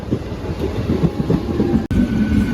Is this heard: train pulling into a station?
yes